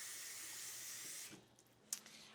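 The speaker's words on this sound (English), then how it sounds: "So I'm gonna go ahead and rinse this one more time." Tap water runs steadily into a sink as sliced potatoes are rinsed for chips, a broad even rush that cuts off midway, followed by faint drips and a small clatter.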